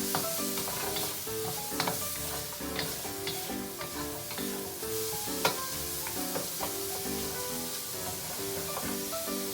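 Pork fries in a hot pan while being stirred, a dense crackling sizzle that runs steadily, with frequent small pops and spatters and occasional clinks of the utensil against the pan.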